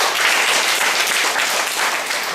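A church congregation gathered in an auditorium claps together in steady, dense applause that stays loud and even for the whole stretch, with no talking over it.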